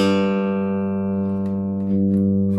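Bass guitar played through its front pickup during a professional setup, a sustained low note ringing steadily with rich harmonics and slowly decaying brightness, alone and close.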